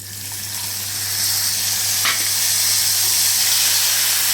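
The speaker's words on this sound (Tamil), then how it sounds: "இப்போ நான் எலுமிச்சம்பழத்தோட உப்பு மட்டும் போட்டு கரைச்சி இதில் ஊற்ற போகிறேன்" Lemon juice with salt poured into a hot pan hisses and sizzles steadily, the sizzle swelling louder after a second and holding as a bright, continuous crackle.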